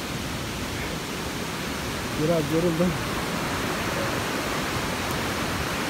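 The Palovit waterfall on the Ayder plateau in the Kaçkar Mountains roars as a steady broadband rush close by, with someone briefly speaking over the constant water noise.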